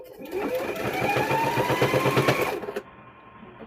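A sewing machine back-stitches across the handle of a door stop, giving a steady, close, loud mechanical whir that runs for about two and a half seconds and then stops abruptly.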